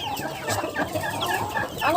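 A brooding hen leading her chicks clucks close by in short, repeated bursts, with soft rustling in the background.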